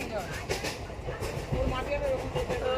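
A passenger train rumbles steadily along the rails between Howrah and Mayapur, heard from inside the carriage as a dense, continuous roar with faint rhythmic clatter.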